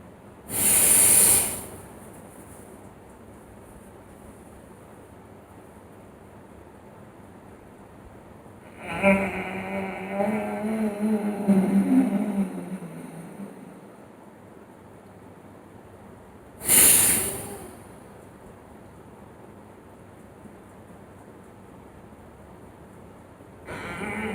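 Forceful yoga breaths drawn in with the stomach pulled in, three separate loud bursts of breath noise spaced several seconds apart, one longer and rougher in the middle, with near silence between and no talk.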